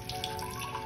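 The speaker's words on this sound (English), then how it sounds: "we're going to need to put a little bit of water into this container." Water poured into a container as the first step of a kids' lava lamp science experiment, giving a short, steady splashing trickle at close range with no talking.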